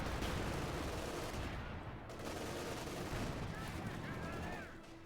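Gunfire and grenade blasts rattle through a Company of Heroes 2 battle, with dense overlapping shots and bursts filling the whole stretch at low volume and a faint voice mixed in.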